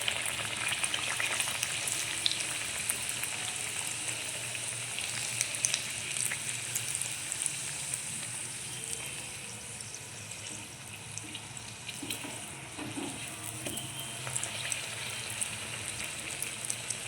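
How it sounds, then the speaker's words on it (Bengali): Pea-stuffed koraishutir kochuri fry in hot oil in a wok, giving a steady, close crackling sizzle that holds for the whole stretch with faint watery bubbling underneath and no talk. "ঠিক এইভাবে আমি প্রত্যেকটা কচুরি ভেজে নেব"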